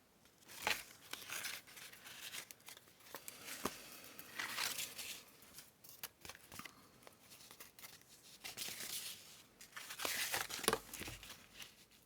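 Musical score paper crinkles and rustles as it is handled and shifted for a junk journal, with irregular crisp bursts and soft scrapes near at hand, no one talking.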